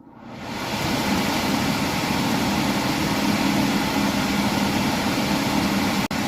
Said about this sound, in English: I turn the switch on, and right now my blower should engage